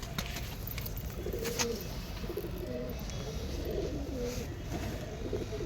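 Kalanka pigeons at a home loft in Khidirpur coo softly in repeated low, throaty phrases, faint against a background hum with a few light knocks, no speech.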